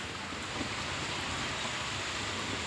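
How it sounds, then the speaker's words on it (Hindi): Heavy rain pours onto a road and old narrow lanes at night, a dense, even hiss that holds steady throughout with no voices. "बहुत तेज बारिश आ रही है"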